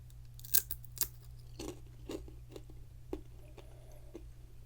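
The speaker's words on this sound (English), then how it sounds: "Now that has more of a crunch to it." Dried tomato snack crunched close to the mic in ASMR style, with a series of sharp crisp bites and crackles spaced irregularly over a steady low hum, no talking.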